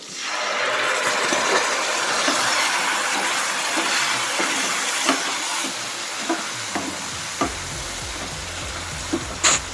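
Tamarind extract hits a hot tempering of fried peanuts, green and dried red chillies and curry leaves in a pan, giving a loud steady sizzle and bubbling with scattered clinks of stirring, no talk.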